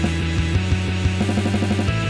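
Rock guitar buildup with repeated driving chords that climb up the scale over a steady pulse, loud and close with no voices.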